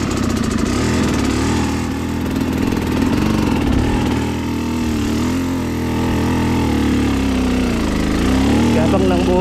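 A motorcycle engine idles on a muddy mountain trail between Labgan and Alasanay in Aurora, a steady low rumbling drone that holds throughout with small shifts in intensity.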